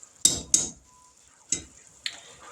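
Butter going into boiling pecan brittle syrup gives a few sharp clunks and brief sizzling bursts, four distinct hits spaced apart, close and fairly loud with quiet between.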